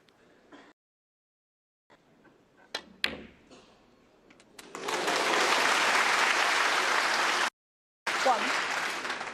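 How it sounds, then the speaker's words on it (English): Spectators at a World Open snooker match featuring Judd Trump burst into applause after a few quiet knocks in the arena. The clapping swells loud and sustained, cuts out briefly, then resumes. "One or two spectators applauding, thinking that was going in."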